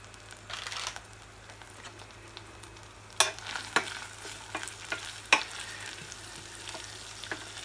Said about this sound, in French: Je vais mettre les échalotes que je vais faire suer tout doucement.